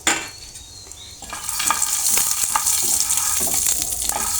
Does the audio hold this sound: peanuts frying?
yes